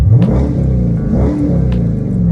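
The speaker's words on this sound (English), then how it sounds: "which was the catback exhaust. I like it personally. It sounds good. It's nice and deep." A Dodge Charger with a catback exhaust and active exhaust delete revs with a deep, throaty rumble, loud and close, swelling and easing over a couple of seconds.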